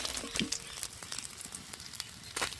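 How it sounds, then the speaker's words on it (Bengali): Pabda fish frying in hot oil in a pan for a mustard and poppy seed curry: a continuous close sizzle with scattered sharp crackles and pops throughout. "ঠিক এরকম করেই ভাজতে হবে, একদম কড়া করার কোনো দরকার নেই।"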